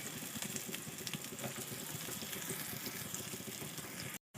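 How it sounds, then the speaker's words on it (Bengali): Chopped large onions fry in hot oil, a soft continuous sizzle and crackle at low level, steady throughout before cutting out abruptly near the end. "তেলটা গরম হয়ে গেছে আমি দুটো বড় সাইজের পেঁয়াজ কুচিয়ে দিয়েছি একটু লাল লাল করে ভেজে নেব"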